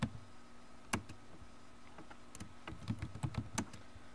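Fingers type on a computer keyboard in bursts of crisp, close clicks, with scattered taps and short pauses against a faint steady hum.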